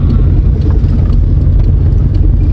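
During a driving lesson, a car engine hums and rumbles steadily as the clutch is released. The low engine drone is close and loud, and there is no clear talking.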